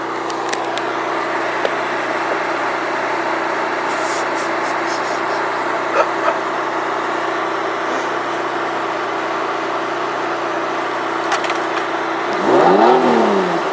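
A Nissan 350Z engine idles with a steady, close mechanical drone for most of the stretch, then revs up briefly in a rising sweep near the end.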